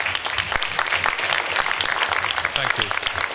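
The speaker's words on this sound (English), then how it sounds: "I just would like you to give him a big round of applause." Round of applause from an audience at a community event honoring the High Commissioner to Jamaica in Nottingham, dense steady clapping throughout with a few voices mixed in.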